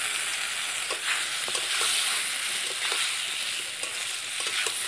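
Ridge gourd tossed with turmeric and half-cooked potatoes in a frying pan, a steady close sizzle punctuated by regular scraping stir strokes, no voices.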